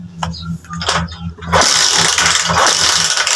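A TMX125 Alpha motorcycle engine cranks on choke and fails to catch, giving a loud, close, rhythmic starter chug that turns into a rough roaring burst without settling into an idle.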